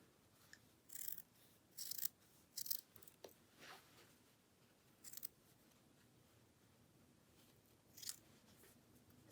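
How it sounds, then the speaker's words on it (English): Scissors snip away excess knit fabric along a sewn seam: a few quiet, crisp cutting bursts in short clusters, then a pause and one more snip, close up in an otherwise hushed room. "All we're going to do is we're just going to trim that off."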